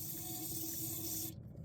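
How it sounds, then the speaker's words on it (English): A steady hiss of solvent sprayed onto a Zerk grease fitting on a Timbren trailer suspension lasts over a second, close and continuous, then cuts off. "Then you can reach up with some type of a solvent and spray,"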